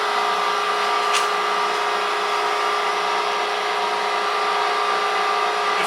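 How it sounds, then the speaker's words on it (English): A meat grinder runs steadily, grinding meat for homemade hamburgers inside an RV. The motor holds a loud, even whine and hum from start to finish, with no voices over it. "I'll put it through the grinder once. I'll mix it with my hands, and then I'll put it through the grinder again."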